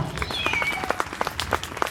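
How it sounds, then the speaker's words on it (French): Applause from a small outdoor audience at a falconry display in L'Isle-Adam: scattered, moderately distant clapping with uneven rhythm and no voices over it. "on peut t'applaudir très très fort"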